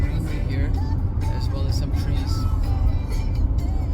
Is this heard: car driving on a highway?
yes